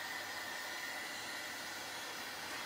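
A craft heat gun for embossing blows a steady, even rush of hot air with no pauses, like a small hair dryer, fairly quiet and close, with no talk.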